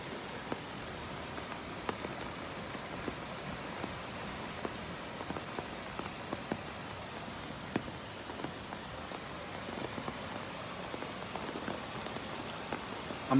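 Rain pattering steadily on surfaces during a flash flood along Walnut Creek in Austin, Texas, a dense even hiss with scattered sharper drop ticks throughout, moderately loud and with no voices.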